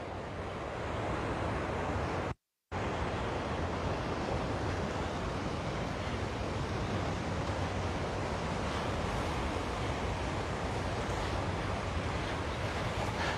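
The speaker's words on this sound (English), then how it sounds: "But look at these waves. Aren't these waves just beautiful?" Ocean surf breaks steadily along the shore at Magic Island in Hawaii, a continuous broadband wash that goes briefly silent for a moment, with some wind rumble mixed in.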